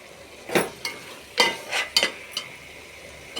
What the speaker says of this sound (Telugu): బాగా కలిపేసుకుందాం.